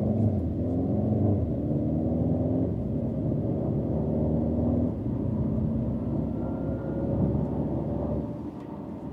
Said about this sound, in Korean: 지금 스포츠 모드로 놓고 약간 그 가속 성능을 살짝만 한번 보겠습니다